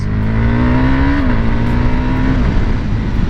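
A motorcycle fitted with a Powertronic piggyback ECU and quick shifter makes clutchless upshifts, the engine drone loud and close, its pitch dropping sharply at each quick gear change while rolling along.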